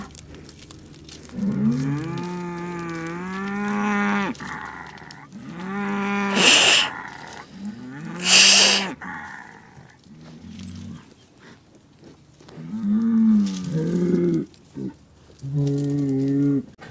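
Bulls in a pasture bellow in long, deep, drawn-out moans and rumbling roars, repeated several times close by with quieter snorts and movement between calls.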